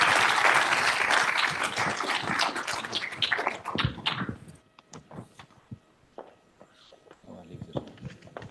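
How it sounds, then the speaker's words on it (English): An audience at the Yale Cooling Conference applauds a panel, loud for about four seconds and then thinning to scattered claps, with footsteps and faint voices. "Give an applause to the panel, please."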